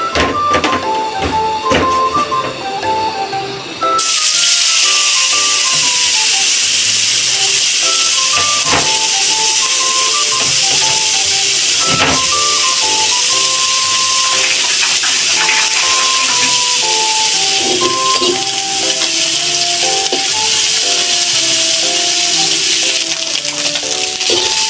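Dried kachki fish frying in oil with turmeric and salt, a loud continuous hiss and sizzle that starts abruptly and holds steady, with melodic background music running throughout.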